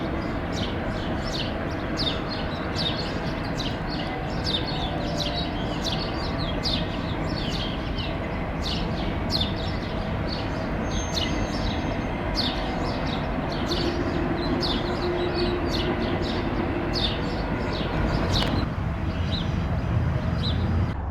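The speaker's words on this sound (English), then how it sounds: "you can hear. The birds are in the trees" Birds calling in trees on a Route 66 morning in Arizona, repeated short chirps scattered throughout over a steady background rumble, fairly distant, with no talk.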